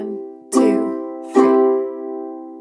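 Ukulele playing a waltz-time strumming pattern of a thumb pluck on the top string followed by strums, with two bright ringing strikes heard clearly and close, each decaying slowly.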